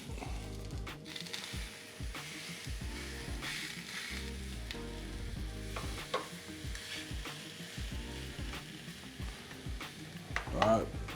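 A flat iron steak sizzles steadily on a Ninja Foodi Grill, a close, continuous frying hiss broken by occasional clicks and handling knocks, with brief low voices in the background.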